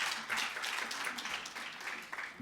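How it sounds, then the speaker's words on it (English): A conference audience at a national ICT summit applauds a speaker with a brief, even wash of clapping that holds steady and moderately loud throughout. "Another round of applause for Professor Jazri."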